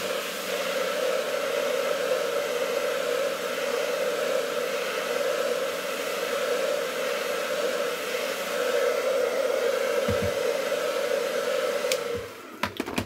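A heat gun blows steadily on an iPhone to loosen its glued battery, a continuous airy roar holding for about twelve seconds before cutting off with a few handling clicks.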